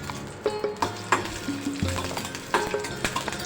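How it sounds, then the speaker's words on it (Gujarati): Chopped onions sauté in a spoonful of oil in a pan for a khakhra pizza, a continuous close sizzle with quick scraping stir strokes and light clinks. "થોડા એવા જ આપણે સાતળવાના છે"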